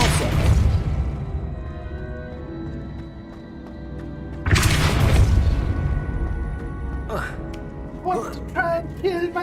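Depulso spell blasts in Hogwarts Legacy gameplay: two loud booming bursts a few seconds apart, each fading out, followed by short scattered pops.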